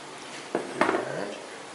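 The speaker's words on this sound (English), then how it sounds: "So now dump those into the oat mixture." Peanut butter and raisin ingredients tipped into an oat mixture in a bowl for granola bites: a soft thump followed by a brief scraping, clattering slide, close and fairly quiet.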